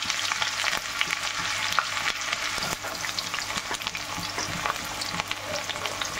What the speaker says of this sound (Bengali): পেঁয়াজ দিয়ে কষিয়ে নিচ্ছি।